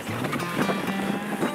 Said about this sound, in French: Tempête de neige, du vent, il fait froid.